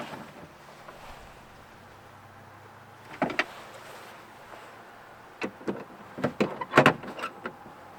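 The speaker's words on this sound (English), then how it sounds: "Use the switch to put the window up." A quiet electric power window motor whirs steadily as the front window of a 2007–2017 Ford Expedition rises after window regulator replacement, followed by several sharp clicks and clunks near the door.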